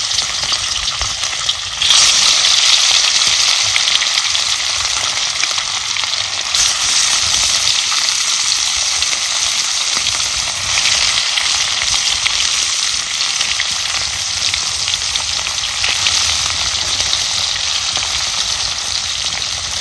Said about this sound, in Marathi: आता चांगलं गरम झाले आता एक एक करून हा मासा आपल्याला तळून घ्यायचा